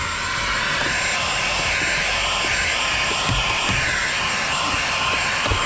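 An Oxilam handheld cordless 14000PA vacuum cleaner with a brush attachment runs inside a 2025 Vinfast car, making a steady, loud, close whirring hum with a few soft bumps throughout.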